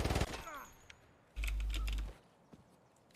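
Gunshots in Escape From Tarkov: a quick loud burst of shots at the start, then a heavy low-pitched report lasting about a second, followed by faint clicks and a few scattered small impacts.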